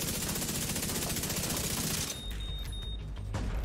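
Rapid automatic gunfire from a first-person shooter game, a dense fast burst that runs steadily for about two seconds, then breaks into scattered shots and clatter.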